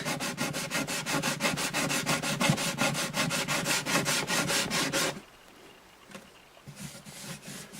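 Sandpaper rubs back and forth on a rosewood guitar bridge in quick, even strokes, close and continuous, then stops abruptly and resumes faintly a moment later.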